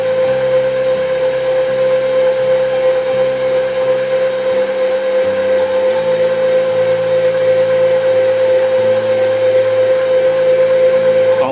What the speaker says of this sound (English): And I'll start up the mixer.